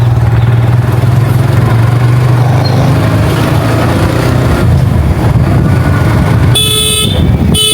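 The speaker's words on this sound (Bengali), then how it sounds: "খালি গাড়ি শব্দ আমার ভালো লাগছে" Busy road traffic streams past loudly and continuously with engines and motorcycles rumbling, then a sharp car horn toots near the end.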